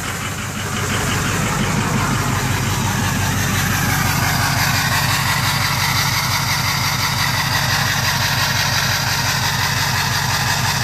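A 6.0 diesel engine with a fault idles steadily and loudly nearby: a continuous rough, knocking rumble at constant revs with no voices.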